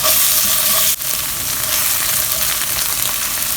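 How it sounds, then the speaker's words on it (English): Minced garlic and tomato paste fry in a pan for beef empanadas, making a loud, continuous close sizzle with a brief dip partway through and no talk. "2 teaspoons of minced garlic and cook for 1 more minute."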